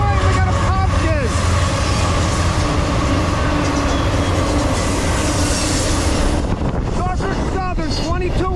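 Norfolk Southern freight 22X runs at full throttle with a BNSF ES44C4 locomotive, passing close and loud as a continuous heavy rumble, with squealing wheels rising near the end.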